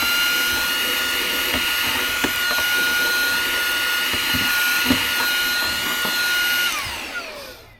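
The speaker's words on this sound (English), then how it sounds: "I'm going to vacuum up the excess." Small vacuum cleaning up excess debris inside a boat, a loud steady whining motor hum with occasional knocks and rattles as the nozzle moves, winding down at the end as it switches off.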